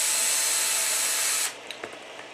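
A small power tool pulls screws out of an RC car wheel, one steady high whir for about a second and a half, then stopping, followed by a few faint clicks.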